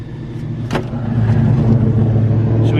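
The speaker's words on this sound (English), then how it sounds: "did you hear that Mustang go by?" A Ford Mustang drives past outdoors; a low engine rumble swells over a few seconds as the car approaches and grows louder.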